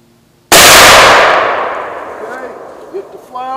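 A muzzleloader fires a self-ejecting safety cartridge loaded with smokeless powder: one sharp, very loud report that rings out and decays over a couple of seconds, followed by faint noises.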